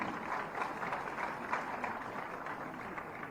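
Audience at a World Disability Day event in Lucknow applauds to welcome a minister, a steady, dense wash of clapping from a large hall crowd that holds evenly throughout with no clear talk over it.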